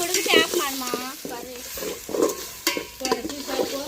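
Mutton pieces fry in oil with ginger garlic paste, making a soft sizzle and stirring under a woman's nearby chatter.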